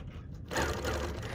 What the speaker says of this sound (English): I'm gonna click my little check mark and the machine moves to the next spot